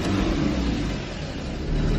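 Car engine revving steadily after a motor repair, a dense continuous mid-range roar with slight dips and swells in throttle, close and loud with no talk over it.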